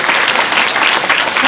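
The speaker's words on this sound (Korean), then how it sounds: "박수 부탁드립니다." Audience at a film talk event for a Korean movie bursts into loud, dense applause, sustained and close throughout with no pause.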